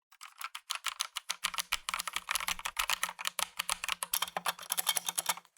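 Rapid, irregular clacking of keys typed on an RK61 wireless mechanical keyboard with red switches, close and crisp, with dense runs of keystrokes and no voices.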